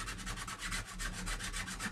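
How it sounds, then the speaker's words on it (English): Close, steady back-and-forth strokes of sandpaper grinding down a lump of CA glue and powder on a 3D printed assembly, each pass a dry rasp in an even rhythm with no voices. "sanding down a wad like that"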